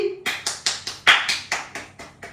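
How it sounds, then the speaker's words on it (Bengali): Hands clap about nine times in a quick, even rhythm, each clap sharp and close, at a midnight anniversary celebration at home. "হাততালি"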